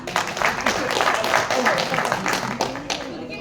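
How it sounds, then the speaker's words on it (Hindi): A group of delivery workers gathered indoors claps together, a close burst of dense, uneven hand claps lasting a few seconds, with voices mixed in. "अरे वाह, उनके लिए तालियां बजाएं।"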